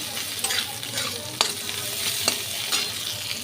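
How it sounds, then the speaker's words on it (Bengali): Dried fish (shutki) frying in oil while being stirred, a steady close sizzle broken by sharp scraping clicks of a spatula against the pan every second or so. "শুটকি মাছটা ভালো করে লাল লাল করে ভাজা করবে"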